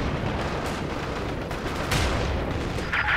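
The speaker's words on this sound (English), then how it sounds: "launching incendiary artillery barrage." An incendiary artillery barrage in the Company of Heroes 2 PC strategy game: a dense, continuous crackle of distant blasts and fiery rumbling, with a sharper, brighter impact near the end.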